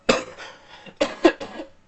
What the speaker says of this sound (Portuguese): eu tô um pouquinho tossindo